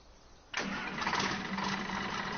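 A tractor engine in Farming Simulator 19 cranks and catches abruptly after a short quiet moment, then settles into a loud, steady idle close by, with no speech.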